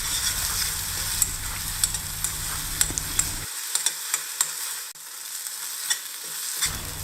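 Thick South Indian thokku is sautéed in oil on a stove, a continuous sizzle broken by repeated sharp scrapes and taps of a spoon stirring against the pan, close and even in loudness.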